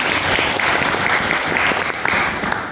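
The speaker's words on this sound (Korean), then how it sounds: "먼저 우리 함께 해서 박수 한번 보내고" An audience at a Korean lecture breaks into loud, dense clapping that holds steady throughout, close and full, with no talk over it.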